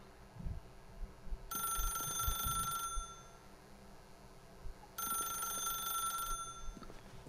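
A telephone rings in two loud, sustained electronic bursts with a pause between them, over a quiet background in the video game The Stanley Parable.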